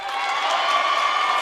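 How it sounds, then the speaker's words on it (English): A home crowd at a boys' high school basketball game cheers in a brief, steady swell of voices and scattered clapping. The sound is moderately loud and heard at a distance within the gym. "Cheers to the delight of the Hornet crowd"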